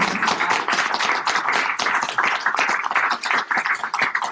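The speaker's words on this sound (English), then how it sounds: "Let's give a little round of Thank applause." A small group claps at the close of an entrepreneurs' meeting, a close, fairly sparse patter of individual hand claps with an uneven rhythm that dips and resumes.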